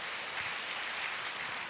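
Church congregation applauding during a worship service, a steady wash of distant clapping, even and fairly faint throughout.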